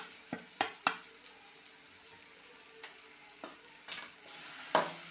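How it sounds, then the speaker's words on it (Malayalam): Onion and ground masala frying for chicken curry are stirred with a spoon against the pan, giving several separate scraping knocks over a faint, quiet sizzle. "നല്ലതുപോലെ ഒന്ന് മിക്സ് ചെയ്ത് കൊടുക്കാം"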